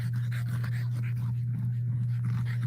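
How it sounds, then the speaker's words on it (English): Dogs outdoors, giving off soft panting and restless huffs over a steady low electrical hum, close and fairly quiet, with no clear barking. "got my barking dogs out here"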